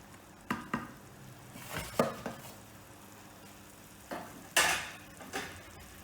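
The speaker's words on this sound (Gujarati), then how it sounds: "એક રસ થઈ જાય ને ત્યાં સુધી હલાવવાનું." A spoon stirs dal in a metal pot, making a series of scraping, clinking strokes over a quiet simmering background, close and fairly soft.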